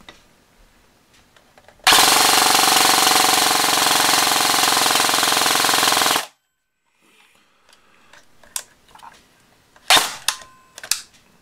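Airsoft gun fitted with a Gate PicoSSR firing a long full-auto burst indoors, a loud, continuous buzzing rattle lasting about four seconds before stopping abruptly, followed by quieter clicks and handling noises.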